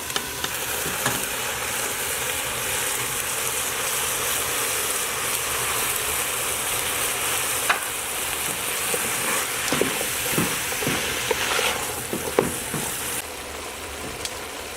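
Meat and vegetables for a cream cheese zucchini lasagna fry in a pan as their liquid cooks off, making a constant close sizzling hiss with scattered scraping stirs that grow more frequent toward the end; no voices.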